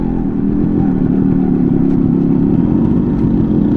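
A restored Yamaha RX 100 two-stroke motorcycle being ridden, its engine running loud and close with a steady raspy drone and slight throttle variation.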